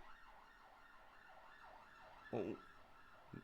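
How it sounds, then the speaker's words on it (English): A faint ambulance siren wails in a repeating rise-and-fall pattern in the distance, with a brief louder thump partway through. "Oh, it's an ambulance."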